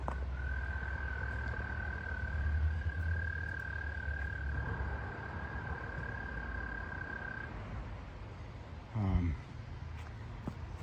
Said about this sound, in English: Now you could hear the toads, or frogs, chirping and singing.